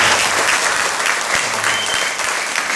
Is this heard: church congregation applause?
yes